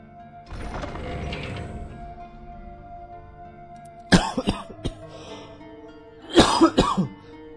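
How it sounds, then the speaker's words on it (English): A man coughs nearby: a raspy throat-clearing burst early on, then two separate fits of several harsh, rapid coughs in quick succession, close and loud. "Wow, lots of coughing in this one, I apologize."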